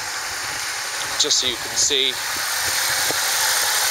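A Nissan S13 200SX drift car idles steadily close by with cooling fans running, a smooth continuous engine hum under a man's speech.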